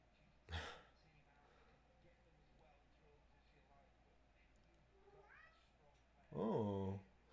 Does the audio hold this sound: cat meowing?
yes